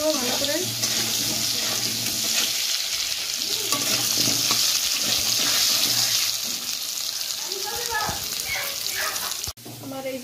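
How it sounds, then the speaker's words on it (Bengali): Potatoes fry with turmeric in a pan, a loud continuous sizzle with scraping stirs and a low hum, and brief voices murmur in the background before the sound drops sharply at the end. "আর একটু হলুদ দিয়ে একটু ভালো করে ভাজবো। আলুটাকে ভেজে নেব ভালো করে।"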